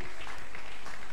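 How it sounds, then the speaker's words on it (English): Church congregation applauding during a service, a short, dense wash of many hands clapping together, steady and moderately loud throughout. "Felicia Iduje, Brother Emmanuel Uwaboy, clap for them."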